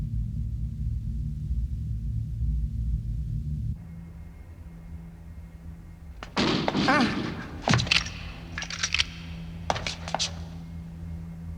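Gunfire in the anime Cyber City Oedo 808 breaks out after a low mechanical hum, a burst of sharp shots and thuds crowding into a few seconds, then several more scattered cracks.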